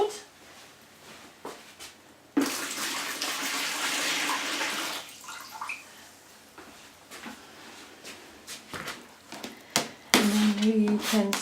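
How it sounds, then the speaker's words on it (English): Water poured out of a container holding soaked toilet paper clay, a loud steady splashing pour lasting a few seconds, followed by scattered drips, clunks and a second short gush near the end. "So let me pour the water out."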